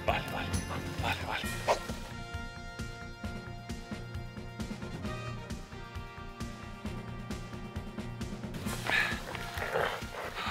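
A hunting dog barks and yips repeatedly while tracking game on an ibex hunt in rough country, sharp barks recurring over a steady noisy background with people talking nearby.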